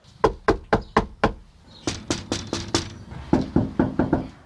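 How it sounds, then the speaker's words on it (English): Knuckles rap on a door in three bursts of five to six firm, evenly spaced knocks, each burst a little different in tone, close and clear with no voices. "we began knocking on doors"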